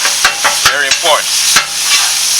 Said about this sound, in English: I'll chop that patty up.